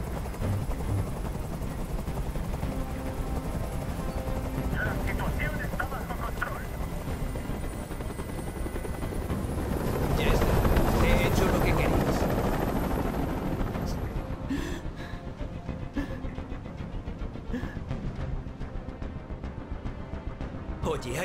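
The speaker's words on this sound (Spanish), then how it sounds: "¡Dile a ese helicóptero que se vaya de aquí!" A helicopter hovers in the Detroit: Become Human hostage scene, a continuous rotor drone and whine that swells louder midway before easing back, with voices talking over it.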